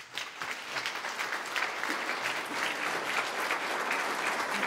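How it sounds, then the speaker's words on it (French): An indoor audience at a French festival guided tour claps steadily and warmly throughout, a dense continuous applause without voices on top. "Je vous demande de l'applaudir très fort parce qu'il est mort de trac"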